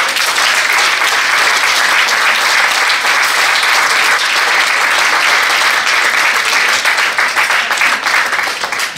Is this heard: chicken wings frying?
no